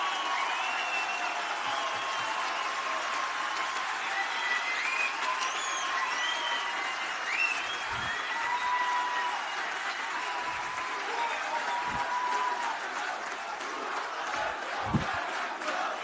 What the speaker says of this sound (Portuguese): Que bom que vocês aplaudiram